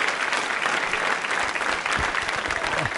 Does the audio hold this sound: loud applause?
yes